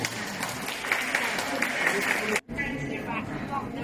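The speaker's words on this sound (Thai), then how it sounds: "ขอเสียงปรบมือจากแขกผู้เกี่ยว" Guests applauding at a ceremony where a senator hands over patient room equipment to Sung Men hospital, a moderate patter of many hands under a background of voices, cut off briefly and then continuing with chatter.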